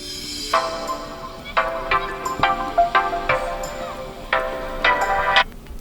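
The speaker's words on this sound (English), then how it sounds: "Now select your custom sound." A custom ringtone melody plays on a Xiaomi Redmi Note 11 Pro+ smartphone, with a series of bright, clear tonal notes sounding close and alone, with no talking.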